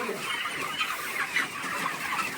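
Many chickens cluck and chatter continuously inside a poultry farm shed, a soft, dense flock murmur with scattered brief calls standing out.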